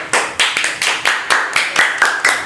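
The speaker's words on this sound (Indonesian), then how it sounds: "Tepuk tangan." Hands clapping on an Indonesian metal-music talk show, a dozen or so sharp, evenly spaced claps from a small group, close and fairly loud with no talk.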